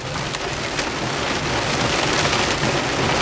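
Hail falling around a gas station during a storm, a continuous dense pattering rush with scattered sharper ticks of stones striking surfaces, steady and fairly loud throughout, no talking.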